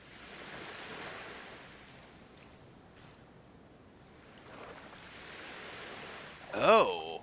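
Gentle ocean surf washing in at the water's edge in the game Voyagers of Nera, a steady soft wash with a faint breezy hiss, ending in a brief louder burst of tonal game sound.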